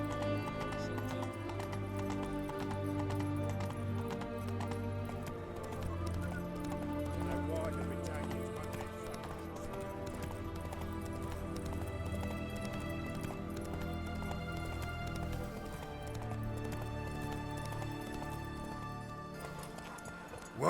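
Roach, the horse in The Witcher 3, gallops with steady clip-clop hoofbeats and an occasional whinny, laid over dense game music and voices talking throughout.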